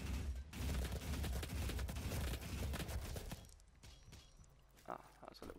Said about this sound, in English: that's a little gunfire right there